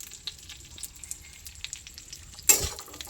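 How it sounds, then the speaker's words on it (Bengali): Food frying in a pan, a faint steady sizzle with small pops, then a sudden louder burst of hiss near the end. "আর এই পাশে এটাকে ভালোভাবে ভেজে নেব।"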